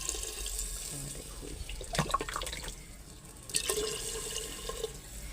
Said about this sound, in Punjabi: ਤੇ ਵਿੱਚੋਂ ਪਾਣੀ ਪਾ ਦਿੰਦੇ ਆ